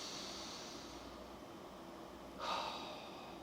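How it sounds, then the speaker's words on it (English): A single deliberate breath, a soft, slow airy inhale against a quiet hiss, swelling briefly near the end. "Just take a very intentional breath right now."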